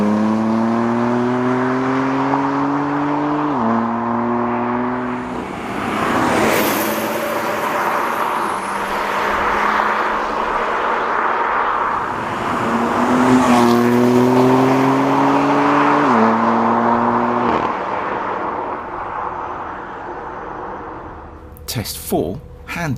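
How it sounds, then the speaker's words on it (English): Two 2017 BMW V8 cars accelerate wide open through third then fourth gear, the engine note rising steeply with a clear drop at each upshift, roaring loudly as they sweep past and fade. "With both cars wide open in third then fourth gear, we'll let you make your own minds up on this one."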